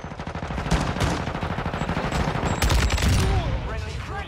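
Rapid Kastov 762 rifle gunfire in the Modern Warfare 2 video game, a dense fast burst of loud repeated shots with overlapping game effects, and someone talking over part of it.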